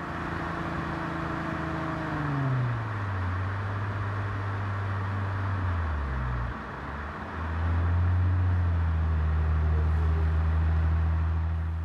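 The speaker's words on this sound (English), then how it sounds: "Now upshifting back to fifth gear." A Lexus IS250/IS350 with automatic transmission upshifts into fifth gear: steady engine drone whose pitch sweeps down as the gear changes, a brief dip in loudness, then a lower, continuous hum building again under road noise.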